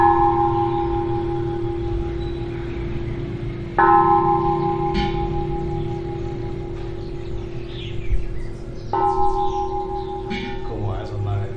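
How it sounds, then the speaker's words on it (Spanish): Original war-era church bells in a Paraguayan town ring out in repeated sustained strikes, each tone ringing and decaying, with birds chirping and some talk in the background. "Estas campanas siguen aquí y son originales"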